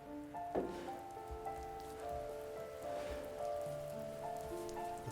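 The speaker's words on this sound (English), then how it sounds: "The rain cascaded onto the jade valley where the entrance to the tree was." Rain falls in the video game The First Tree, a soft steady patter with scattered drops, heard alone alongside faint sustained musical tones.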